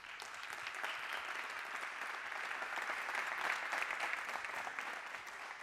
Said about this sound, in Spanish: Un fuerte aplauso para Enrique Dans.